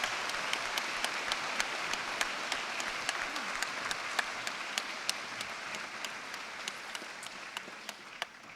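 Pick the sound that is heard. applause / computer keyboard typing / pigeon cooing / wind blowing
applause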